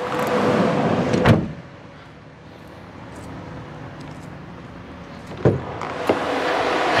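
The heavy rear doors of a 2021 Ram ProMaster 2500 refrigerated van open with sharp latch clunks and thuds at intervals, set against steady outdoor background noise.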